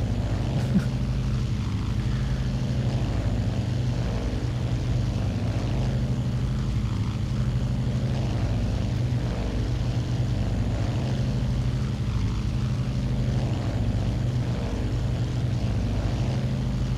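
Douglas World Cruiser propeller plane in a flight simulator game, its engine droning in a steady, loud, unbroken hum throughout, flying in bad weather while struggling to trim out.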